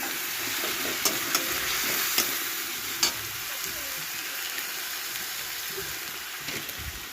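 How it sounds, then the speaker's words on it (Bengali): Spices with chili, cumin powder, salt and turmeric fry in a pan while being stirred: a steady close sizzle throughout, broken by a few sharp scrapes and clicks of the spoon. "দিয়ে মশলাটাকে ভালো করে কষিয়ে নেব"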